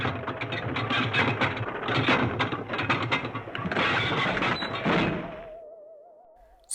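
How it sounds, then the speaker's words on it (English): A castle drawbridge drops with a long rumbling, creaking mechanical rush for about five seconds, loud and dense, then cuts off and leaves a faint wavering tone. "The drawbridge dropped."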